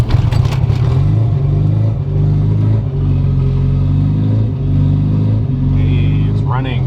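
A turbocharged Honda Civic EF engine catches and settles into a loud, rough, lumpy idle right up close, with rattles and a few small surges in engine speed.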